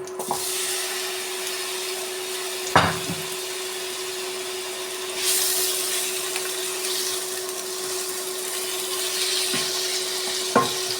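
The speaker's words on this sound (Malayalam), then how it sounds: "ഇത് നമുക്കിത് ഫ്രൈ ചെയ്തെടുക്കാം." Chicken pieces coated in an egg masala mix fry in hot oil in a pan, giving a steady, fairly loud sizzle with a few sharp clinks of a utensil against the pan.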